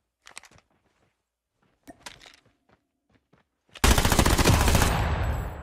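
OTs-9 submachine gun fire in Call of Duty Mobile: a few short bursts of gunshots early on, then a loud, sustained automatic burst that runs to the end.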